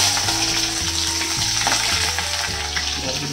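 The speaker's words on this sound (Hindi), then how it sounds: "दाल को तड़का तड़का लगाना है" Steady, loud sizzling of spices hitting hot oil to temper dal, a continuous crackling hiss with low clattering from a pan close by.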